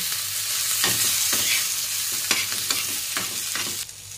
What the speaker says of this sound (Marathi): थोडीशी जिरे टाकायचे आणि मग ते चांगलं मिक्स करायचं आहे